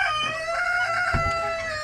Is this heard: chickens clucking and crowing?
yes